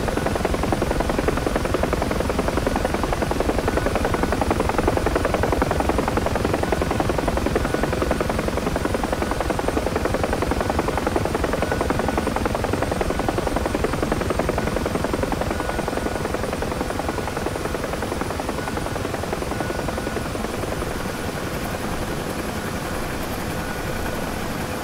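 A UH-1H Huey helicopter lands in the DCS flight simulator, its loud, close rotor thump and turbine drone running continuously and easing slightly toward the end.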